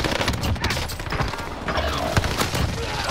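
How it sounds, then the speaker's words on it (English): Rapid bursts of gunfire and heavy blasts from a precision airstrike in a video game battle, dense and loud throughout with repeated sharp cracks and booms. "Allied precision airstrike incoming."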